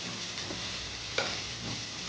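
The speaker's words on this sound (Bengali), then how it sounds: "পেঁয়াজটা দেখুন বন্ধুরা লাল করে ভাজা হয়ে গেছে।" Onions frying in oil in a pan while small fish curry is cooked, giving a steady close sizzle with a few soft stirring scrapes and no talk.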